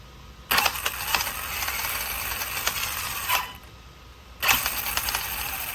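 Clicking from the driveline of a Traxxas 2wd RC car with a 3660 motor (3150 kV) under throttle: bursts of whirring motor noise with repeated sharp mechanical clicks, two throttle bursts separated by a brief pause.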